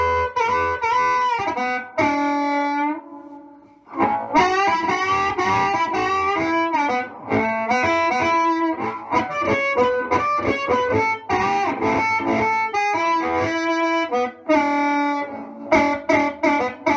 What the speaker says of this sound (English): Now I'm going to turn the reverb setting way up higher.